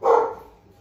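A single short dog bark, close and fairly loud, with a quick decay and no talk over it.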